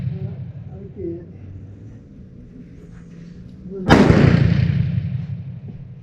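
A single loud Enfield No2 MK1 revolver shot firing a heavily crimped reload outdoors, a sharp crack followed by a long decaying boom, after a stretch of low background noise and faint movement.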